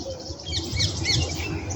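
A bird near a nesting area gives a short run of harsh, squawking calls, close and fairly loud, with no one speaking.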